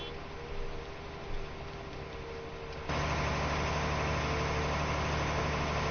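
A tractor engine in a farming video game climbs a hill, a steady low drone that jumps to a louder, fuller roar partway through and holds there.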